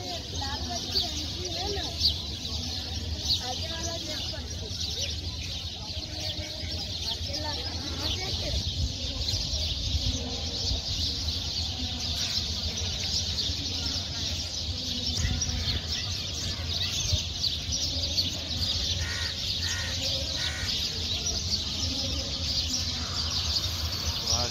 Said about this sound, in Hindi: चिड़ियों का चहचहाट एक साथ इतना गाना पे रहे ना